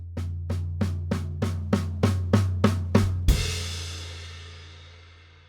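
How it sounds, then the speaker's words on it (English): Snare and floor tom struck together in unison for a triplet-based fill, roughly ten evenly spaced hits that swell from quiet to loud before a final crash-like accent rings out and decays alone. "take your 2 groups of 6 and simply play them on the snare and the floor tom in unison"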